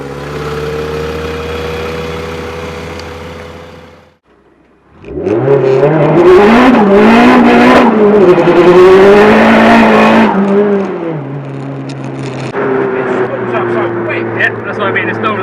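Modified competition car, a Nissan S15, with its engine revving hard and rising in pitch while being driven, loud and close for several seconds after a brief idle and pause, then settling back toward a steadier drone.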